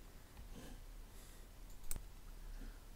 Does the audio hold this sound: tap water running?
no